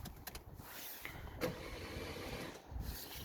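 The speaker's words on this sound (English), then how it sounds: "It'll crank, but it won't start." A Vauxhall Astra H with an overheated, damaged engine cranks but fails to start, with a faint starter whirring broken by a few sharp clicks, heard quietly from near the car.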